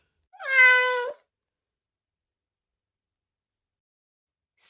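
A single clear cat meow, close and loud, lasting under a second, followed by silence and a faint click at the end.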